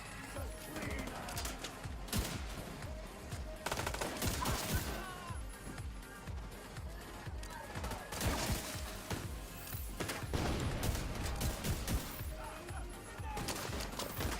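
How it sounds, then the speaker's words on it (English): Shotgun blasts and other gunfire in The Division 2, loud bursts scattered through a dense, busy mix of combat noise, with someone talking over it. "I'm being sniped by a shotgun."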